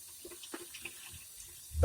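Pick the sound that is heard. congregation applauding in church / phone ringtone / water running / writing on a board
water running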